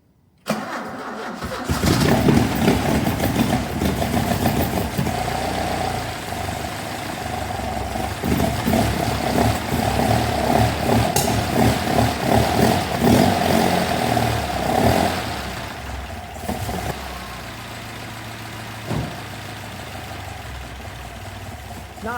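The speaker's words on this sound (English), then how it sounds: "Okay, I've just sorted the choke, fired it up." A classic Alfa Romeo GTV engine, cold and running on choke after a head gasket replacement, fires up and settles into a steady, slightly uneven idle close by. The idle fades lower near the end.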